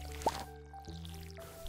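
In the farming video game Stardew Valley, a watering can pours onto crops with a single bright drip and splash, heard over soft background game music with sustained tones.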